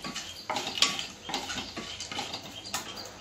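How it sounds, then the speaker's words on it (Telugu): Chana dal tipped into a hot pan for a coconut ivy gourd stir fry, close clattering and rattling of dry lentils against metal in short bursts with a light sizzle beneath, no voices. "ఫస్ట్ మనం ఇప్పుడు శనగపప్పు వేసుకుందాం."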